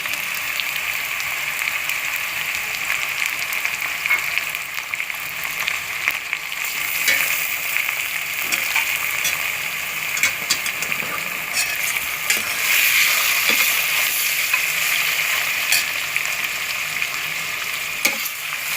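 Steady hissing sizzle of onions frying in hot oil until golden and crisp for vegetable biryani, continuous and close, with occasional soft stirring clicks and no voices.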